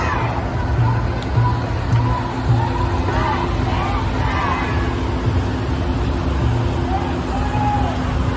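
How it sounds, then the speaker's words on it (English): Cars pull away through blocked street traffic in Texas, with engines rumbling at a moderate distance under a continuous murmur of crowd voices and occasional nearer speech. "you have cars pulling away in the background trying to get out of this thing"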